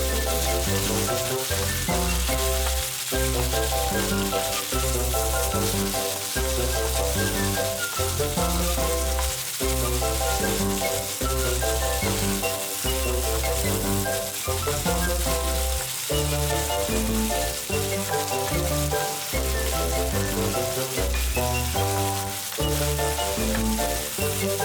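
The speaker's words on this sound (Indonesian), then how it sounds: "tambahkan bawang putih yang telah dicop, serta bawang bombay yang telah diiris tipis-tipis ke dalam wajan penggorengan yang telah berisi daging ayam yang telah matang" Chopped garlic and thinly sliced onion fry in a wok together with already-cooked chicken, a steady loud sizzle running throughout with rhythmic stirring scrapes and clanks, no voices.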